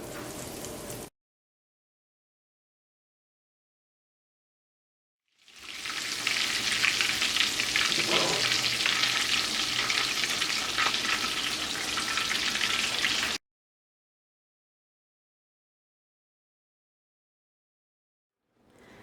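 Chicken cheese balls deep-frying in hot oil, heard as a dense, steady crackling sizzle close by that lasts about eight seconds between stretches of silence.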